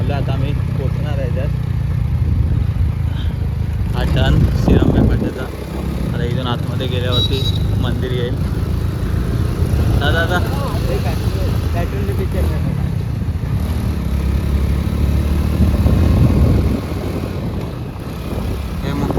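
A motorbike carrying two riders drones and labors steadily throughout, rising and falling as it strains up a rough uphill road, with people talking over it.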